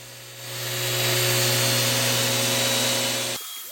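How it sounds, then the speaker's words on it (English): A gear-driven power sander in turbo mode grinds into a wooden mid-century coffee table piece, a loud, steady high-pitched whine that ramps up, holds evenly, then cuts off near the end. "how quickly could I sand it off with my sander in its turbo mode?"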